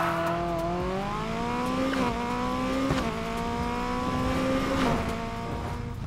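Engine revving hard through gear shifts in Need for Speed Heat as a drag car launches, steady loud motor drone with tire squeal mixed in, no talk.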